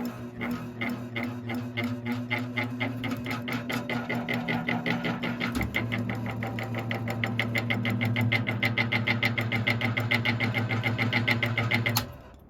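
A small box fan motor running on low, steady with a rhythmic ticking rattle and low hum from a faulty rotor, continuous for several seconds before abruptly switching off.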